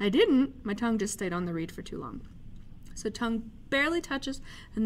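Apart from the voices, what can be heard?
No everyday noise stands out behind the speech.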